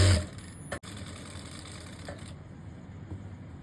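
A sewing machine makes a short stitching run, whirring briefly close by with a sharp click near the start, then runs on quietly during the restitching of a seam.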